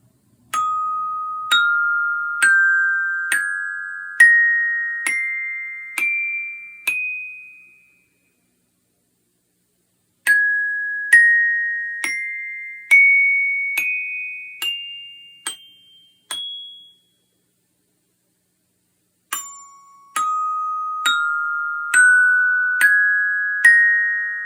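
Glockenspiel playing ascending major scales: three runs of evenly spaced bright metallic strikes climbing step by step, each note ringing briefly, with short silences between runs and no talk.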